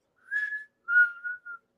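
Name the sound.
person imitating a whistle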